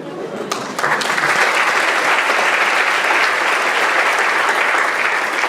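At a high school underclassman awards night, an audience breaks into warm applause, a steady, full roar of many hands clapping that builds quickly after a brief opening and sustains throughout.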